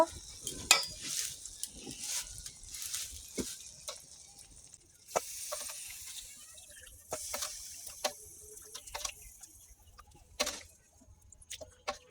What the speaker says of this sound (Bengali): মশলা কষানো হয়ে গেছে, এখন আমি মাংস দিয়ে দিব।